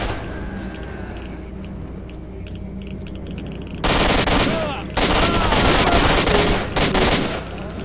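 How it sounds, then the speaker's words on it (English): Bursts of automatic gunfire from STALKER: Shadow of Chernobyl, loud and close, erupting after a quieter ambient stretch and continuing in dense rapid volleys with short gaps. "I'm just gonna shoot you."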